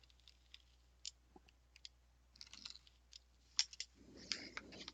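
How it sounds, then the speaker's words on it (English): Scissors snip and trim paper while assembling a pop-up photo album, giving a scattering of small, close, faint clicks and cuts, with a longer rustling cut near the end. "Using the scissors to fully cut"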